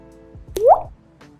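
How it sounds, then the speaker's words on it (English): Water drips from a waterlogged bisque-fired pottery piece, a single close wet plop with a short squishy splash and a faint second drip after it. "that is waterlogged. I mean, it's dripping."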